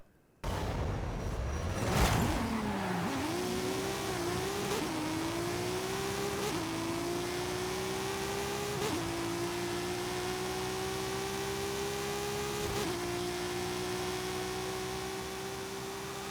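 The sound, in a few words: drag car accelerating in Forza Horizon 5 video game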